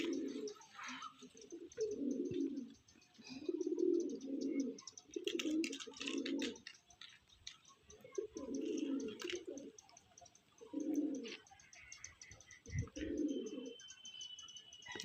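Pigeons cooing close by in a loft, a regular series of soft low-pitched coos repeating with short pauses, some faint chirps and background noise around them.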